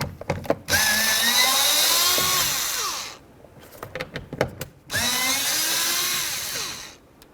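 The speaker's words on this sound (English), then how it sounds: "Now we're going to move along to removing these 3 mounting screws right here using a T25." A power driver with a T25 bit whirs steadily as it backs out the three mounting screws on a 2007-2012 Dodge Caliber door during window regulator work, two sustained close runs of about two seconds each with brief clicks and handling in between.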